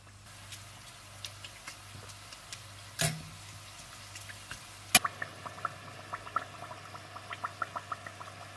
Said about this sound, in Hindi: आप तेल गरम कर लीजिए और इन समोसों को इसमें फ्राई कर लीजिए